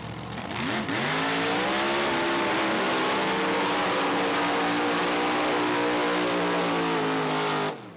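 At Alaska Raceway Park, a drag racing car roars past loud and close, its engine note sweeping and then holding a steady, powerful drone for several seconds before cutting off abruptly.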